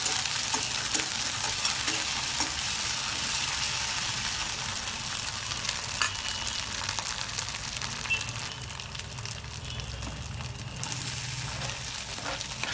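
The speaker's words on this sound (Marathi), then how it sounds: "अद्रक पेस्ट टाकून घ्यायची थोडी" Ginger paste sizzles and fries steadily in a pan for chana usal while a spoon stirs it, giving a continuous close crackling hiss with soft scraping throughout.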